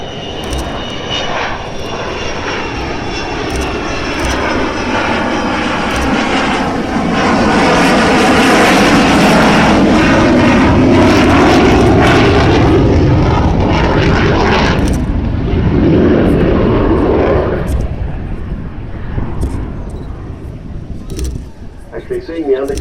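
Avro Vulcan XH558 jet bomber at Farnborough Airshow, a loud sustained jet roar that swells as it passes close overhead, then fades away, with some voices faintly underneath.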